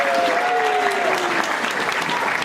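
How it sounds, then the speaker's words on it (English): A conference audience at a nonprofit writers' event gives a round of applause, with loud, sustained clapping filling the room and a faint tone running under it. "Now give a nice round of applause for Ellen."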